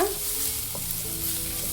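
Half an onion, finely chopped, fries on a medium flame with a steady close sizzle and occasional stirring scrapes, with no talking.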